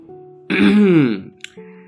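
A man's throat clearing, a single rough, voiced rasp lasting under a second, close and clear, sound-effect style, with a faint steady hum in the background before and after.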